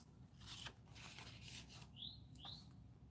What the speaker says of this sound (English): They can hear the birds when they periodically sing outside.